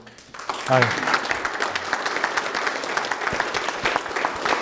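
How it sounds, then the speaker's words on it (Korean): An audience claps at a Korean book talk about the hardships of people in their forties, after the author pledges the book's royalties to student tuition. A brief voice is heard at the start, then many hands applaud, warm and sustained. "제가 박수 받아야 될 일이 아니라요"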